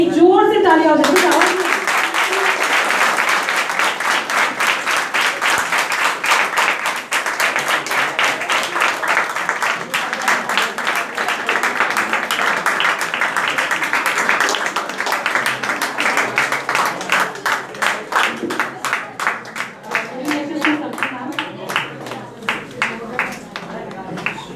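A seminar audience claps loudly and steadily to felicitate a guest from a police station, dense applause filling the room and thinning slightly toward the end.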